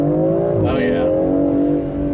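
A 2021 BMW X4M sports SUV with its S58 engine accelerating in sport mode, a steady loud engine drone rising in pitch with a brief shift-like dip, heard from inside the cabin.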